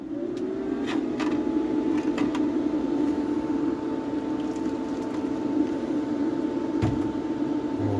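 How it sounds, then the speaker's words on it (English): A fan runs steadily in a workshop while hot water is used to strip enamel paint from a diecast Dinky Ford D 800 tipper truck, a constant close hum with a faint whine and a few small clicks. "we turn the fan on."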